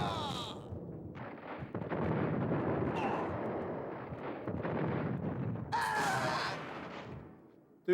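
Grenade explosions in the video game Max Payne: heavy booming blasts and rumbling debris roll on for several seconds, loud and close, with chaotic game sounds between them and no clear speech.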